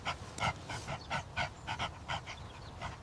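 A rescued Labrador pants rapidly and rhythmically, close by, each quick breath a soft breathy puff in an even, steady series.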